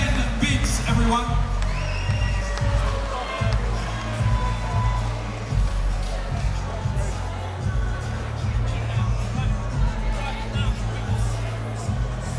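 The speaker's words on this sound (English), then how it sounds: "a big, massive round of applause for your boxers, Jake Orchard and Ben Biggs, everyone" A crowd at a boxing event cheering and clapping for the boxers, a dense, continuous roar of voices and whoops with an announcer talking over the noise.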